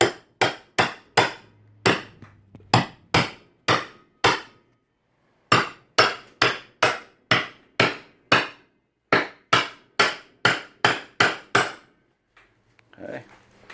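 A hammer pounds rough-cut pieces while a wall-mounted storage rack for three bikes is built: about two dozen sharp, loud, evenly spaced blows in two bursts, separated by a short pause, with no talking.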